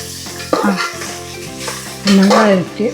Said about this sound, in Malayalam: വെളുത്തുള്ളി പച്ചമുളക് ഇഞ്ചി വേപ്പില സവാള എല്ലാം കൂടെ വഴറ്റിയെടുക്കുക